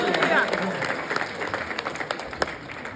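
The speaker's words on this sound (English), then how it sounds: "Just praise God with a round of applause, too." A conference audience at a faith event applauding in a sustained round of clapping, moderately loud and steady, with scattered sharper claps standing out and a voice heard faintly at the start.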